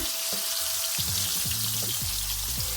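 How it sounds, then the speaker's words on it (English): Pork chops frying in a pan give a loud, dense hiss of sizzling grease, with a few thumps and knocks from handling near the end. "they've been going like 4 minutes. So I'm going to flip them"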